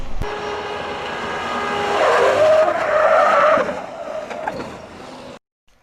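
A Mahindra Thar skids during an ESC stability test, giving a loud, sustained tyre squeal and scrubbing roar that swells over several seconds and then fades out abruptly.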